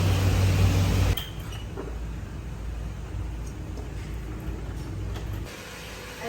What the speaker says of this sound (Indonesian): Kipas lampu hidup